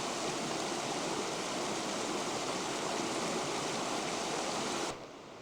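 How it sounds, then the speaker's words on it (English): A small babbling brook runs beside a forest path toward Chatterbox Falls in an Alaskan North Pacific rainforest, its broad steady rush of flowing water continuous and close before cutting off abruptly near the end. "there's a little babbling brook along the side"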